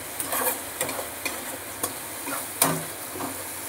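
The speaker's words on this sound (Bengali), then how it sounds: "এবার পেঁয়াজ আর রসুনটাকে আমি ভেজে নেব" Onion and garlic fry in a pan over raised gas, a constant close sizzle punctuated by regular spatula strokes and scrapes, with one louder knock near the end.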